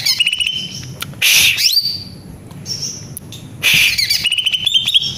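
A green leafbird sings bright, varied chirps and whistled phrases in repeated bursts, fairly close, with a faint low hum in the background.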